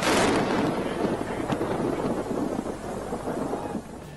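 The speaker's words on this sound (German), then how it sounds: "An diesem Tag schlug der Blitz direkt in eine der Fahnen auf dem Fußballfeld ein." Thunder rumbles over a football field during a thunderstorm, a loud rolling crash at the start that trails into a long low roar mixed with rain and wind, with no voices.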